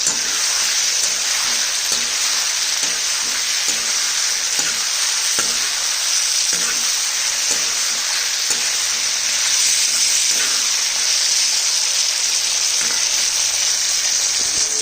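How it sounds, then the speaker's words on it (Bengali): Large chopped onion pieces frying in a pan of hot oil give a loud, steady, close sizzle that hisses without pause, with faint stirring scrapes and no talk. "এই পর্যায়ে আমি দিয়ে দেবো এই বড় করে কেটে রাখা পেঁয়াজের টুকরোগুলো।"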